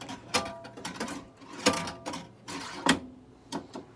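Score motor of a Williams Liberty Bell pinball machine runs with a switch set too tight, giving a close, uneven train of mechanical clicks and clacks with sharper knocks scattered through the burst.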